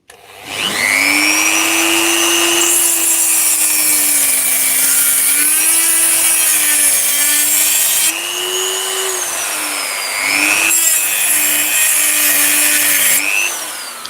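A Dremel rotary tool cuts into battery cells from a Milwaukee M18 pack, giving a loud, sustained high whine close by whose pitch wavers as the load changes, with brief dips partway through.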